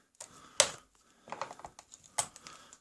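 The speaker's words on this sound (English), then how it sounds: "what I'll do is I'll just click off the plastic clips here" Plastic retaining clips snapped off a computer memory stick, a few close, sharp clicks and small tapping knocks in quick succession against a quiet background.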